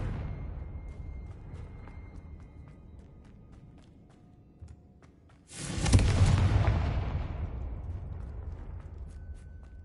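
A Confringo explosion spell in the Hogwarts Legacy video game: after a quiet rumbling stretch, one sudden, loud blast bursts out and then decays slowly over several seconds.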